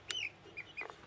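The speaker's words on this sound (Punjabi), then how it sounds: "ਮੁਰਗੇ ਵੱਡੇ ਮੁਰਗੇ ਆ ਗਏ" Chickens and roosters from a hatchery cluck in a few short, close bursts, with quiet pauses between calls and no talking.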